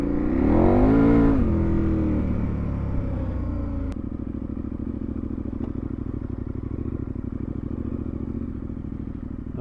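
Motorcycle engine revving hard with wheel spin while riding off-road, a loud rising and falling roar that settles into a steady rapid idle-like chugging after a sharp knock.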